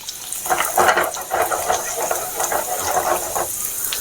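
Finely chopped garlic, two or three cloves, sizzling and hissing in a hot pan for a Bihari litti chokha, a steady close frying crackle with small bursts of spatter and no talking.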